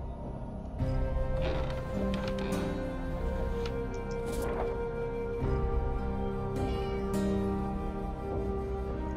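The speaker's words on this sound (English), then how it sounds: "I don't see a cat, but I heard a cat" A cat meows faintly in the background of a game's soundscape, a few short plaintive cries over a steady bed of ambient music and tones.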